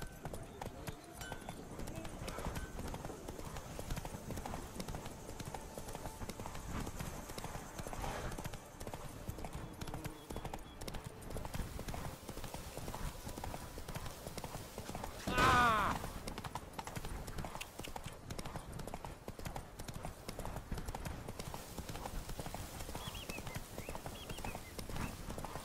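Horse hooves clip-clop at a steady trotting rhythm in the video game The Witcher 3: Blood and Wine, quiet and continuous, with a brief whinny midway and a voice speaking softly over it.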